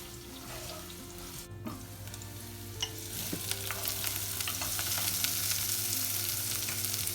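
Eggplants frying in olive oil in a covered pot, a soft, building sizzle with scattered pops and a steady low hum beneath, fairly quiet and close, no speech.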